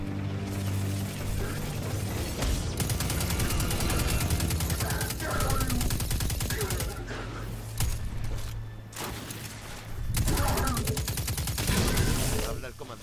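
Rapid gunfire in Destiny 2 rattles in dense automatic bursts, loud and close, with brief pauses and faint voices underneath.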